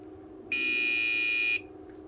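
A Busch-Jaeger bathroom emergency panic alarm for disabled people gives one loud, steady high-pitched buzzing tone lasting about a second, starting and stopping abruptly over a faint room hum.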